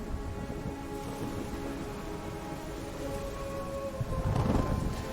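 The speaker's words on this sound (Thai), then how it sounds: "ฝนตก" Steady rain in the video game Ori and the Will of the Wisps, a continuous broadband wash of falling water that swells louder near the end, with no voices over it.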